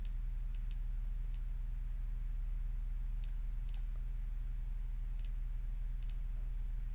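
A computer mouse clicks sparsely during graphic design work, the sharp, faint ticks scattered in small groups over a constant low hum.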